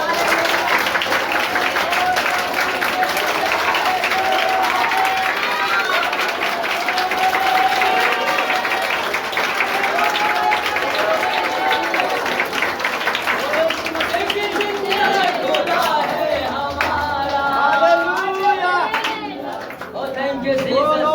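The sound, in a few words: standing audience applause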